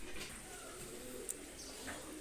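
Oman teddy pigeons cooing softly in the background, low murmuring coos over faint ambient noise, with a brief chirp-like click near the middle.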